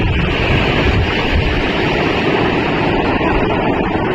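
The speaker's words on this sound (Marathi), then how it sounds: "पाण्याचा स्पीड आणि आवाज बघ असा येतोय" Swollen floodwater rushing fast through a village after heavy rain, a loud, steady broadband roar close to the microphone with constant turbulent churning and no pauses, with no voices heard.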